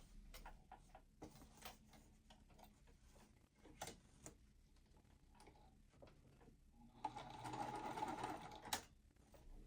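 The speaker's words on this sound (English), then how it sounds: "I am going to sew them at the same time." Sewing machine stitching quilt pieces together, a steady mechanical ticking run with short pauses, then a louder fast burst of stitching near the end; nearby and alone with no talk.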